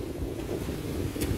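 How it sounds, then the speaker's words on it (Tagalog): Strong, storm-like wind blowing outdoors near a banana plantation, a steady loud rushing roar with buffeting against the microphone and no pauses. "grabe sa hangin"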